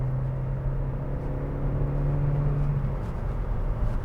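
A 2016 Vauxhall ADAM GLAM three-door with a 1.4 i VVT 16v petrol engine accelerates through the gears, giving a steady, fairly quiet engine hum heard from inside the cabin with road rumble and no talking.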